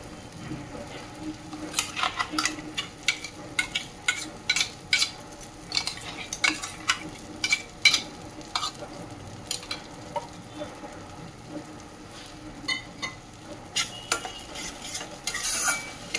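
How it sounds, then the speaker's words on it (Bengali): Spice paste for mutter paneer being stirred and fried in a pan, with repeated scraping and clinking of a spoon against metal over a steady low sizzle, close and fairly loud, no talking. "এই মশলাটা দিয়ে এখন নাড়াচাড়া করে নেব, 2 মিনিটের মতন ভালো করে কষে নেব।"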